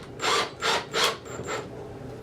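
Screws driven into wooden cutting boards with a power driver, three short whirring bursts in quick succession, then a fainter fourth, close by with no talking.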